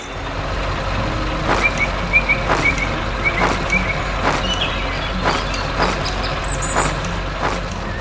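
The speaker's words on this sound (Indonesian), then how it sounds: "truk merah sedang bekerja keras" A cartoon red truck working hard on a farm while the soil is tilled, with repeated reversing beeps and short air-brake hisses over a steady engine rumble, close and fairly loud throughout.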